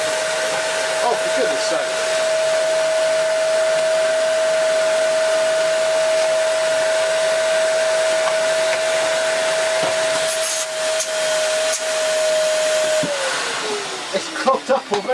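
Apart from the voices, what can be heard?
Hoover Dust Manager cyclonic cylinder vacuum cleaner motor running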